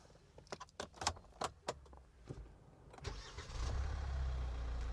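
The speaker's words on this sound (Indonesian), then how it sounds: "Dieselnya lumayan halus, tidak seperti truk bunyinya." Keys jangle in a few sharp clicks before a 2016 Hyundai Santa Fe diesel engine cranks and starts, settling into a smooth, low, steady idle close by.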